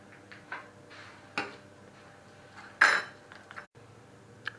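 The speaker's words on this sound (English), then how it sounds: "I'm using two 8-inch pans and I've lined with baking paper." Two 8-inch baking tins lined with baking paper being handled in a home kitchen: scattered metallic clinks and knocks, one sharper clatter midway, close and fairly quiet with no talking.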